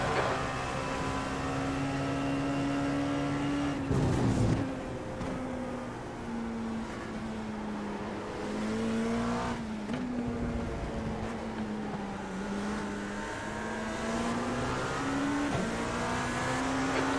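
Race prototype engines from a Dallara P217 in the iRacing sim at Silverstone during an IMSA race, a steady loud high-revving drone with pitch rising and falling as cars pass and shift, continuous throughout with no talk.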